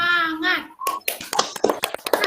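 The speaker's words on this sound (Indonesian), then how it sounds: "Tepuk semangat." A group claps hands together at a teacher's prompt in a classroom peer-teaching session, a rapid burst of uneven, close claps following a voice.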